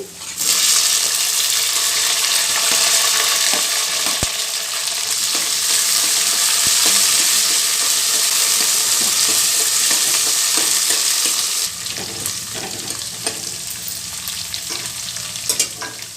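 Okra (ladies finger) frying in a pan, a loud, dense, steady sizzle that drops to a lower crackle with a few clinks and stirring sounds near the end, with no talking.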